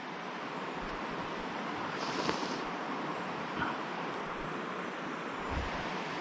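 A river in Chiloé, a trout stream running too deep to wade, sends up a steady broadband rush of flowing water with a soft wind-like hiss, continuous and even throughout without voices.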